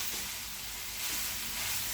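Taco meat with jalapeños, peppers and onions sizzles steadily in a hot pan, a close, continuous frying hiss with no talk.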